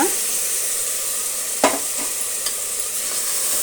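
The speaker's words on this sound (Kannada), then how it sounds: "ಇದು ಒಂದೆರಡು ನಿಮಿಷ ಫ್ರೈ ಆಗಬೇಕು ಹಸಿ ವಾಸನೆ ಹೋಗೋ ತನಕ ಫ್ರೈ ಮಾಡೋಣ" Ground masala paste for biryani fries in a pan while being stirred, producing a close, continuous sizzling hiss with a few distinct scraping strokes of the spoon.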